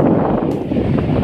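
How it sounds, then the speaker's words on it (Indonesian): Electric fan running in a small hut, a steady broadband whoosh of spinning blades and moving air blowing close against the microphone, loud and continuous with no speech. "Nah, kipas anginnya berfungsi ya guys. Baling-balingnya stabil banget ya. Anginnya juga berasa banget guys. Kedengaran kan?"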